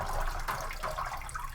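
Soapy water mixed with washing-up liquid is poured from a jug into the bell of a brass instrument, making a steady, close liquid pour and splash that keeps going throughout.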